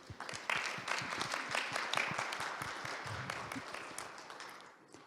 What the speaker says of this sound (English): Please let's give them another round of applause.